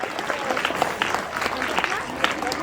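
Audience applause at a school award ceremony, many people clapping steadily at close range, dense and even throughout with scattered sharper claps.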